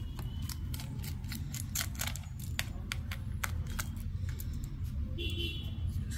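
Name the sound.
unscrewing a screw on an HP x360 laptop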